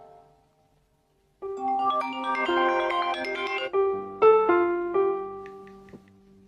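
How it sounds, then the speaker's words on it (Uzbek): A mobile phone plays a melodic ringtone after a brief pause, a loud sequence of bright tones that repeats with short gaps, close by and with no talking. "Telefon bo'lyapti, adasi."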